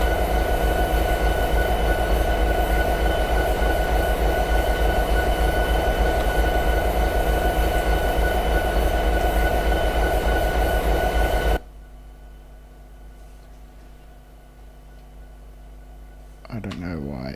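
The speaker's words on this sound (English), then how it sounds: "drive the locomotive through the switch" In Train Simulator 2016, a diesel locomotive rolls through a switch with a loud, steady mechanical rumble and drone. The sound cuts abruptly to a quieter hum with a brief shuffle at the end.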